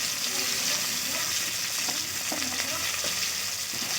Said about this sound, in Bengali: ওই তেলে ভেন্ডিগুলো ভেজে নেব।